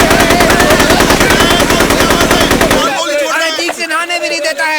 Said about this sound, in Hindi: गोलियां पे गोलियां चलाया जा रहा है